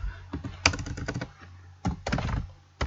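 Keys clatter on a computer keyboard as a number is typed, a rapid burst of close clicks, a pause, then a few more taps, with no talking.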